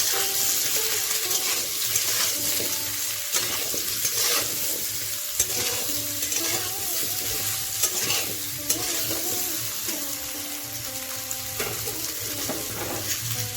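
Raw mango pieces with salt and turmeric stirred in a pan for a sweet-sour pickle, repeated scraping strokes of a spoon over a constant sizzle, close and fairly loud, no talking.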